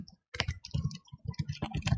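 Fingers type a command on a computer keyboard in quick, close, crisp clicks, an irregular run of keystrokes with a brief gap near the start, with no talking.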